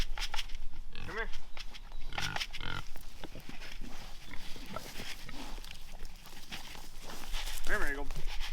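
Pigs grunting and squealing in short bursts as they are herded across a farm fence, with shuffling footsteps and a person calling to them over the animal noises.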